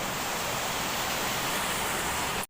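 Strongly flowing hill water near Sittong and Jogighat gives a loud, steady, unbroken rush. It continues without change until it cuts off abruptly at the end.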